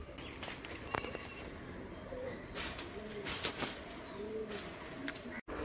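Pet pigeons in a home loft coo in soft, repeated low phrases amid a busy background of scattered rustles, footsteps and brief clatters, the calls moderately near and interrupted by a sharp dropout near the end.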